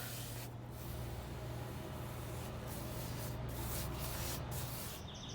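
Wood stain brushed onto a dry wooden fence, a continuous close rough rubbing and swishing of bristles over boards with brief gaps between strokes, steady and moderately loud, with no voices.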